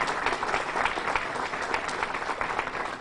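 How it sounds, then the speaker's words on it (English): Sustained applause from an audience at a press conference for the unveiling of a Frederick Douglass statue, a steady dense patter of many hands clapping throughout with no voices over it. "So let's give them another big round of applause"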